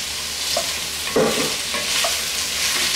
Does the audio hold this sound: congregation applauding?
no